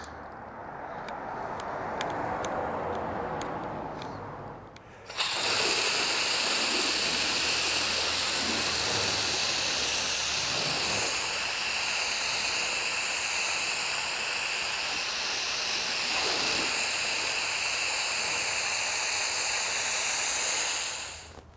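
Steady, loud hiss of an inexpensive foam cannon spraying foam onto a car, starting abruptly after a quieter spray of water and running evenly for about fifteen seconds before cutting off.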